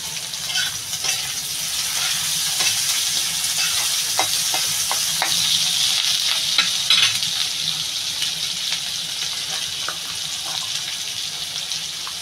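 Onions sizzle steadily in a hot pan with salt added, while a utensil stirs and scrapes through them in repeated soft clacks, close and continuous for the whole stretch without any talking.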